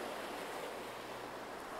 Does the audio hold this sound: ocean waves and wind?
yes